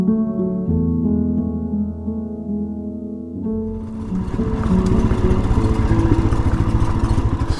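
A motorcycle runs with a steady low engine drone for the first few seconds, then swells into a louder, rougher sound as it picks up speed while being ridden, with wind noise and clatter building over the engine.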